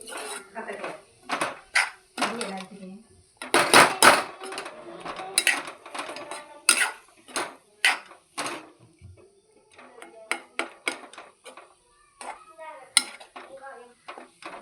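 A utensil scrapes and clinks against a plate, mixing onion, tomato and egg fry in irregular bursts up close, with a person talking between the strokes.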